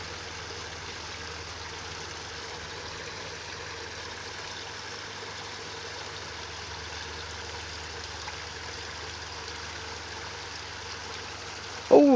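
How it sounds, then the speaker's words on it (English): A garden fish pond waterfall gives a steady, even rush of trickling water that runs unchanged throughout, fairly close, with a brief louder knock at the very end. "Oh, the waterfall."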